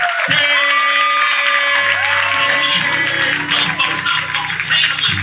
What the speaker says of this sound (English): So y'all clap right now.